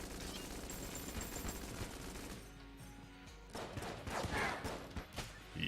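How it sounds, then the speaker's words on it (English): A gun in Enter the Gungeon emptying the last of its ammunition during a boss fight, rapid repeated shots layered over busy game effects and music, fairly quiet. "here goes the rest of the ammunition in this gun"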